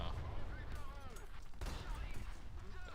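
Artillery fire in the tank battle game War Thunder Mobile: heavy low booms and rumbling explosions over continuous battle noise, with someone talking over the action.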